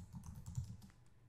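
Someone typing a command on a computer keyboard, a brief quick flurry of soft close key taps in an otherwise quiet room, with no voices.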